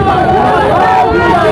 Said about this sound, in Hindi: कार्यकर्ताओं ने गाड़ी को घेर लिया, यहाँ पे भीड़ लग गई है